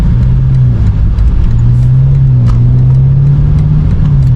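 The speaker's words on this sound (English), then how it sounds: "You guys will get to kind of hear the car a little bit" A BMW M5 engine hums loudly and steadily from inside the car during street pulls, its pitch rising and falling gently as it pulls.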